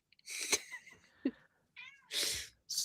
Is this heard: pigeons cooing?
no